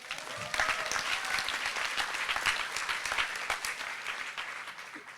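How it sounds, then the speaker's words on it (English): An audience at a Farm Aid farmer forum on Minnesota activism bursts into applause, a dense, lively clapping that swells early and then slowly tapers off. "So another round of applause."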